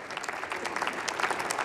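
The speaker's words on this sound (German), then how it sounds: "Der Applaus ist es wirklich wert, Herr Trittin." Applause fills a session of the German Bundestag, a dense, steady patter of many hands clapping at a moderate distance with no voices over it.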